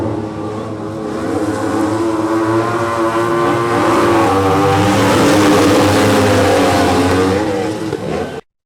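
Race cars roar past at a speedway event, a loud sustained engine drone swelling and shifting pitch as cars accelerate by, with no talk over it.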